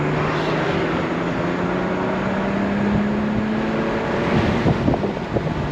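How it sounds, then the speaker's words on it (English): A 1995 Mercedes-Benz E320 Cabriolet with an M104 engine pulls away, its steady engine drone rising slowly in pitch under wind rush, with some bumps and rattles near the end. "Silky smooth M104 motor."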